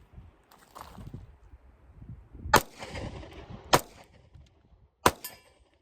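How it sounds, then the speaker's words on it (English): Three sharp, loud pistol shots from a handgun fitted with a Nightstick weapon light, spaced about a second apart and ringing briefly, with faint low sounds between them. "So let me take a few more shots and pay attention to the muzzle flip."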